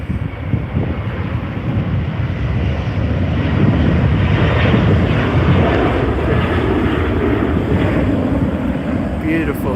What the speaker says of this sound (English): Beautiful liftoff from the A330-300